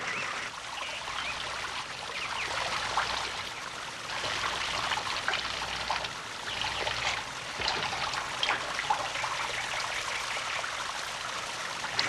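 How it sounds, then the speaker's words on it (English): Water trickles steadily out of small holes in the bottom of a vessel like a little shower, a continuous close splashing patter lasting several seconds with no voices. "then the water trickles out the little holes, making a small shower"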